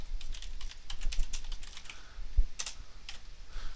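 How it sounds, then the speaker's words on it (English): Someone types a command on a computer keyboard at a Windows PC, producing quick irregular runs of close key clicks with a couple of short pauses, quiet and alone. "So I'm going to select the disk by typing in select disk"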